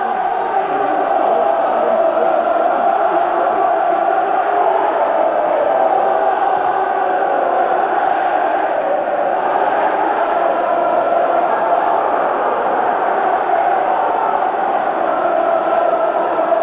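Football crowd at Hull City vs Huddersfield Town, a steady loud roar of chanting and shouting that holds unbroken throughout, distant and massed.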